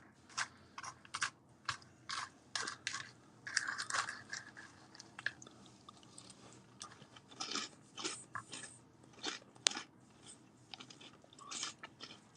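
Close, quiet crunchy eating: a rapid series of crisp bites and chewing crunches in irregular bursts over a near-silent background, with no talking.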